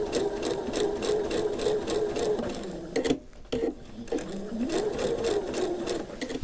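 A sewing machine pieces curved orange peel quilt blocks, its steady close-up whirring and rapid needle chatter running almost continuously, with a brief stop partway through before stitching resumes.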